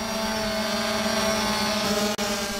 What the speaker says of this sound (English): Laser Falcon was mounted on a small drone.